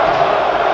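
A Giants football crowd roars and chants in a stadium during the 2000 NFC game against Minnesota, a dense, steady wash of many voices throughout the brief moment.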